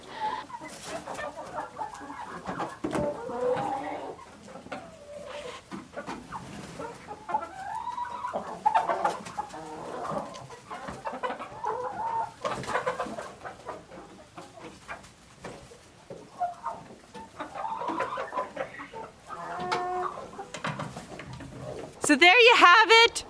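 Chickens cluck and murmur throughout a winter chicken coop, their soft repeated calls scattered across the whole stretch at moderate distance, with a sharper burst of squawking near the end and a person talking between them.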